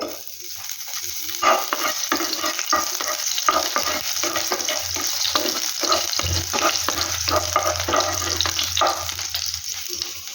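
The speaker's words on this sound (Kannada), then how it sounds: "ಈಗ ಎಣ್ಣೆ ಕಾಯ್ದಿದೆ. ಈಗ ನೆಕ್ಸ್ಟ್ ನಾನು ಮೆಣಸಿನ್ಕಾಯಿ ಆ್ಯಡ್ ಮಾಡ್ಕೊತಿದ್ದೀನಿ." Green chillies frying in hot oil in a pan: a loud, continuous crackling sizzle with dense spitting pops, close up and sustained, with a low hum underneath.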